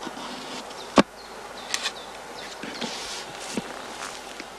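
Honeybees at straw skep hives make a faint, steady buzz with a few insects passing close, plus occasional soft knocks and one sharp tap nearby.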